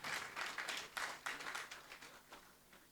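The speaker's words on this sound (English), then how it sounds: "A round of applause for everybody I've called so far." A conference audience at an international investiture event gives scattered, fairly faint applause. The bursts of clapping rise and fall over about three seconds and thin out toward the end.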